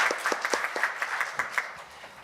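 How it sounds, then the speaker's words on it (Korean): An audience at a seminar on youth media education claps to welcome a professor, giving a short burst of moderate applause from a modest crowd that holds steady and then thins out. "교수님을 박수로 맞이해 주시기 바라겠습니다"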